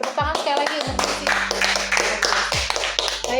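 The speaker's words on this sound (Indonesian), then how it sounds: "Tepuk tangan sekali lagi untuk Messi" Studio audience applauding a guest at the close of an Indonesian weekend talk show, a steady spread of hand claps with some talk and low hum beneath.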